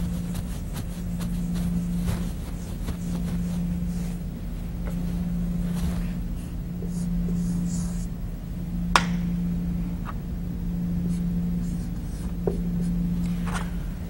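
Steady scratching of a pen or marker writing out a chart during a math lesson on positive and negative numbers, a continuous low hum beneath, with a couple of sharp taps, close and clear.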